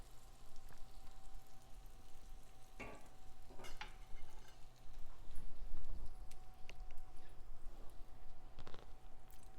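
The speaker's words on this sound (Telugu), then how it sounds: "ఇలా వేగిన తాలింపుని మనం ఈ మిశ్రమంలో వేసుకోవాలి." Fried tempering spooned into a pudina tomato chutney mixture, faint soft sizzling with a few scraping stirs and light clinks of a spoon against the bowl, close and quiet.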